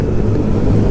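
A Suzuki Hayabusa motorcycle passing at night in Lyon, a loud, close, low engine rumble that holds steady through the short moment.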